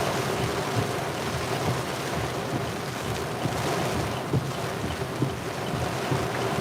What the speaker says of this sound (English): That was a solid 50, 55 mile per hour gust there probably.